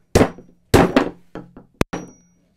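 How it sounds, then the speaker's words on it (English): A Stiletto TB15MS Ti Bone titanium hammer strikes nails several times in an uneven rhythm: two heavy thuds, a lighter tap, a sharp crack, then another blow, close and loud. "you pounding these in is a breeze with this hammer"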